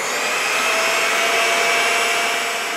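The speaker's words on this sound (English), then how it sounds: "So what I'm going to do is whisk the heavy cream to stiff peaks." Electric mixer whisking heavy cream to stiff peaks for a three-ingredient vanilla and chocolate mousse, giving a steady, loud motor whir that holds evenly throughout with no talking.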